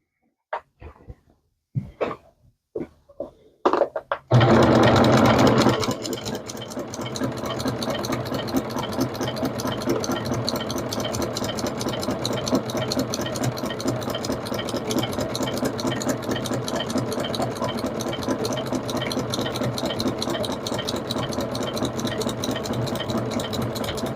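A sewing machine stitches a zigzag on a quilt during a repair, starting after a few brief clicks and handling noises, then running in a close, steady rapid chatter for about twenty seconds.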